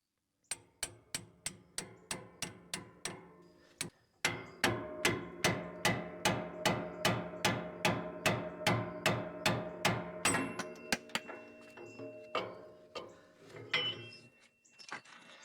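Hammer striking a Harbor Freight tie rod separator tool on a truck's steering stabilizer: a long run of sharp metallic blows at a steady beat, close and loud, pausing briefly and then speeding up before trailing off.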